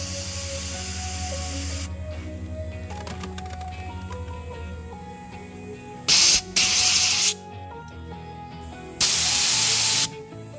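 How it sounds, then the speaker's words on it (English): Aerosol parts cleaner is sprayed into the carburetor needle seat of a Ford 2N tractor in short, loud hissing bursts, with quiet mechanical fiddling and faint clicks between sprays. "So I'm just going to run some parts cleaner down through the seat."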